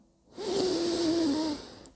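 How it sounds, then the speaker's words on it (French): A single slow inhalation through the nose, soft and close, lasting just over a second, during a calm breathing exercise with no talking. "On inspire par le nez."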